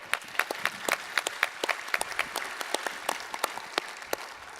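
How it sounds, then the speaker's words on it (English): An audience at a keynote gives a round of applause, with distinct sharp claps repeating quickly at a moderate distance, fairly sparse rather than a dense roar. "We're going to need a big round of applause."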